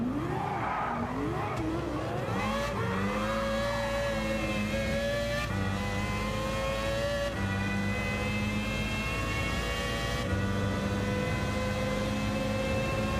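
Racing engines in Gran Turismo 7, including a Trans Am Mustang, whine and climb through gears with rising, falling pitch and repeated upshifts, loud and steady with tire noise underneath.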